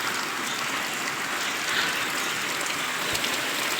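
Steady morning rain falls continuously in a Gujarat village, a dense, even hiss of drops on surfaces with no pause across the whole stretch, loud and close.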